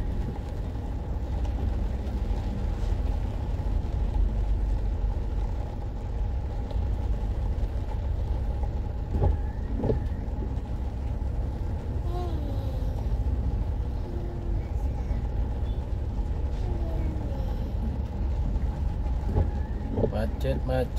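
Road traffic in a jam, with a steady low rumble of cars, trucks and buses idling and creeping nearby while people talk over it.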